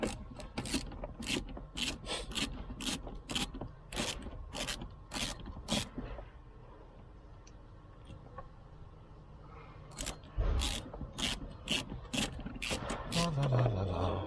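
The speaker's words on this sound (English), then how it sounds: "Just using my little Halford's 1/4 inch socket set here, because it's what I have got handy." A small 1/4 inch ratchet from a Halford's socket set works a bolt on a 2002 Renault Clio, giving rapid, evenly spaced ratchet clicks close up, a pause, then another quick run of clicking.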